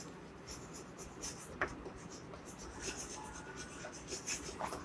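A pen writes on paper during a maths class, with close, scratchy strokes and taps in short bursts, quiet and steady, and no clear talking.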